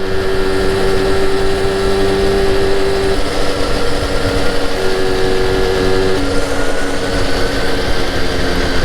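A Solex 6000 moped running steadily after being fixed, its small engine giving a continuous droning hum with a steady tone that shifts partway through, no voices over it.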